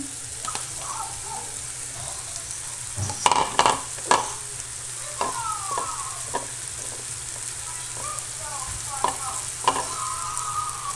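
Corn tossed and stirred in a hot pan for spicy chicken with vegetables, a steady close sizzle broken by scraping knocks of the utensil that cluster early, then recur sparsely.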